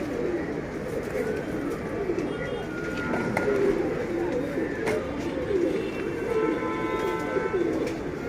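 Pigeons, including a tagged bird from Bangladesh, coo steadily inside a Mumbai breeding loft, a low continuous murmur of many birds close by, with a few brighter calls rising over it throughout.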